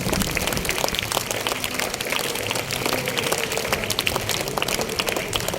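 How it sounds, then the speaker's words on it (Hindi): Applause for prize-winning class 6 students at a school prize distribution, a dense steady clapping from a large crowd lasting the whole stretch. "चलिए एक बार जोरदार ताली बजा देंगे."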